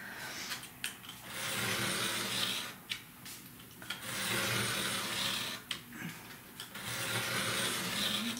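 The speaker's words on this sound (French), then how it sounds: "j'appuie ma règle, puis je mesure ma règle jusqu'en bas, puis je coupe" A craft blade drawn along a ruler through very dense chipboard gives repeated long scraping rasps, each several seconds, separated by brief pauses, fairly quiet and close.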